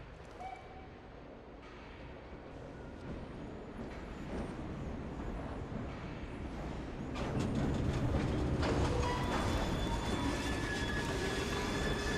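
Rolling train in the video game Assassin's Creed Syndicate, set in Victorian London, a steady rumble and rattle of railcars that grows louder and busier partway through, with squealing wheels and metallic clatter near the end.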